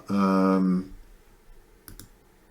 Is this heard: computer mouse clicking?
yes